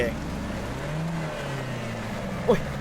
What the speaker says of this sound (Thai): เร่งเครื่องอย่างแรงอ่ะ